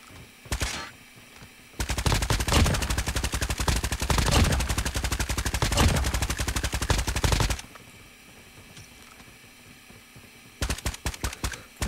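Automatic fire from a CR-56 AMAX rifle in the COD Mobile video game, two long sustained bursts of rapid shots plus short bursts at the start and end, loud and close without speech.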